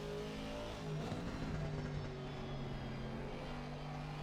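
Race car engines in a sim racing game at Laguna Seca, a steady distant drone of engines holding a constant pitch, faint and continuous, with a brief swell of revving near the start.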